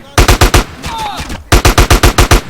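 Loud automatic gunfire in GTA San Andreas Definitive Edition, a quick burst of about five shots, a short gap with whistling effects, then a longer rapid burst of roughly eight shots, close and punchy.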